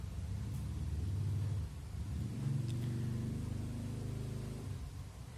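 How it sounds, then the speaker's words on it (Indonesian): Yamaha motorcycle engine rumbling as the throttle opens during a throttle position sensor check, a low steady drone that rises in pitch partway through, with no talk. "Coba kita tes saat gas dibuka."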